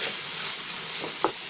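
Onion and capsicum frying in a pan with a pinch of salt, a continuous close sizzle with a couple of small utensil taps near the end.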